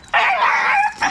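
A puppy gives a single drawn-out, high whining yelp or bark lasting most of a second, followed by a short second yelp, close and fairly loud with no talk.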